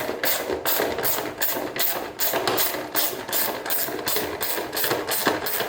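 Screws on a VF Commodore headlight's adjustment mechanism being undone with a ratcheting tool, giving a steady, close run of rapid mechanical clicks and whirs with regular pauses and no talking.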